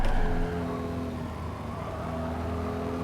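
A race car in Gran Turismo 7 as the driver lifts off the throttle, the engine note dropping from a brief louder rev into a steady droning hum and whir.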